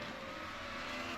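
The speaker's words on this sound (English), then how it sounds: "Smoking his tyres." Super Formula race car at Okayama with its tyres locking up and smoking, giving a sustained, fairly faint screech against a steady engine drone.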